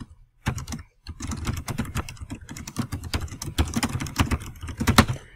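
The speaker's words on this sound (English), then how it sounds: "and then type up your caption" Quick, steady typing on a computer keyboard enters a photo caption in Publisher, a close, continuous patter of key clicks after a brief pause at the start.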